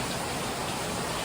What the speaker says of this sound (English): I hope you guys can hear me and the rain's not too loud